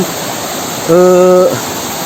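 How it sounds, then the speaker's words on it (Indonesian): A river flowing down from Mount Sawal through forest makes a steady, close rushing wash throughout, with a voice briefly speaking over it in the middle. "Ini merupakan sungai dari Gunung Sawal ya, dari atas sana. Jadi airnya mengalir ke sini"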